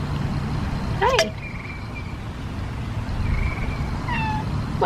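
A kitty meowing on a farm during hay equipment maintenance, a few short rising and falling meows at moderate distance over steady outdoor rumble, with a brief soft greeting spoken nearby.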